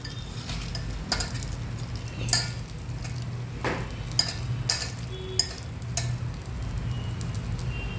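Small onion bhaji (kanda bhaji) frying in hot oil, a steady close sizzle and crackle with occasional sharp pops, and no one speaking.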